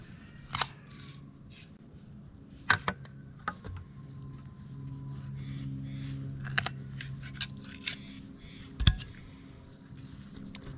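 Scissors snipping through a large tree root in a garden bed, several sharp, irregular cuts and crunches spread out over quiet outdoor background, nearby and fairly distinct.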